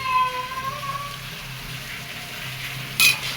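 Onion-mushroom masala sautéing in a pan with a little water, a steady soft sizzle and frying crackle throughout, with a faint tonal whine early on and a brief louder clatter near the end.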